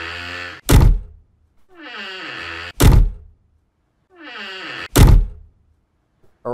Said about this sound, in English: So as you can see, the door open and door close sounds play.